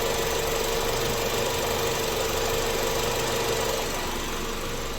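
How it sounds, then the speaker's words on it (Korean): A Renault Samsung SM7 Nova LPG car engine idles steadily and evenly, a constant close hum with no talking. "엔진 소리는 원래 지소리 그대로입니다"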